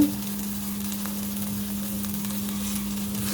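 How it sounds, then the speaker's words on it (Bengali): Eggplant fries slowly in a pan over low heat, giving a steady, gentle sizzle and crackle close by, with a faint constant hum beneath and no talking. "আমি খুবই আস্তে আস্তে ফ্রেমে খুবই সুন্দর করে ভেজে নিয়েছি"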